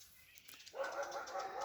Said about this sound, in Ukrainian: Сусідка випустила, мабуть, своїх собак, то вони бігають і всі наші гавкають.